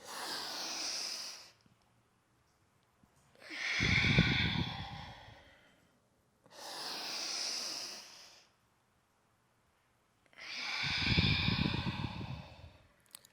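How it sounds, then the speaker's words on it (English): Slow yoga breathing during a short full-body practice: four long breaths alternate, airy inhales and deeper, rushing exhales, each lasting about two to three seconds with quiet pauses between, close and clear with no talking. "Again, inhale and exhale."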